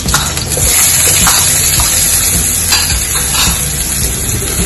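Loud, steady sizzling of onions frying in hot ghee, with a spoon occasionally stirring through the pan.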